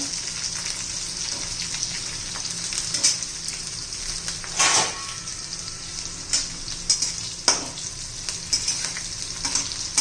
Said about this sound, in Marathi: परतायच्या या मिरच्या मोठे धुवून द्यायच्यात आपल्याला चांगले दोन मिनटं परतून घेऊ आपण चांगले